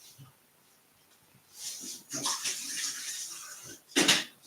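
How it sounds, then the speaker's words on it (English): Water is poured into a container with a little honey in a home kitchen, a faint trickle and splash that builds in the middle and ends with a short louder gush, quiet room otherwise. "Put a bit more water in case I need to top that."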